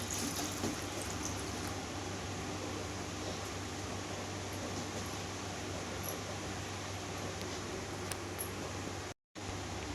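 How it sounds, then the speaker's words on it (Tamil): Water pours steadily into a pot of ridge gourd kootu in a long, even rush for several seconds, then cuts off abruptly. "தேவையான அளவு தண்ணி ஊற்றிக்கலாம்"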